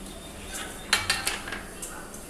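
A knife cuts taro (arbi) leaves with several sharp, quick clicks and taps against a board or plate, close and fairly faint over quiet kitchen background.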